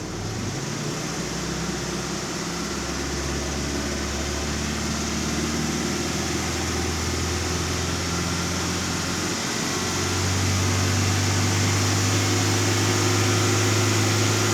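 A car engine idles steadily with the air conditioning running, a continuous low hum that steps up to a louder, higher drone about two-thirds through as the engine is revved, with no speech.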